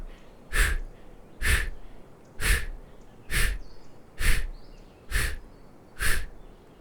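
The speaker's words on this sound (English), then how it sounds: "Blowing the breath out each time you cross." Seven forceful breaths blown out at a steady rhythm about once a second during a beginner qigong core exercise, close and fairly loud, each a short breathy whoosh with no talking between them.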